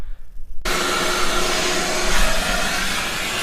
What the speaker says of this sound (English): What we are gonna do is go grab the shop vac and start hosing this junk off.